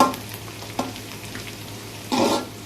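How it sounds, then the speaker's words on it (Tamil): Onions with curry leaves sauté in a pan for a chicken gravy, giving a steady low sizzle with a few scraping stirs, the loudest burst near the end. No one speaks. "கருவேப்பிலை சேர்த்து நல்லா வெங்காயம் வந்து பொன்னிறமாக வர அளவுக்கு நல்லா வதக்கிக்கலாம்"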